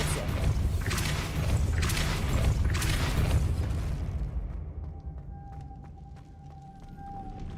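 Depulso spell cast in the Hogwarts Legacy video game: a deep, rumbling whooshing blast with a few sharp surges, then fading into a quieter hum with faint ticking and a thin tone.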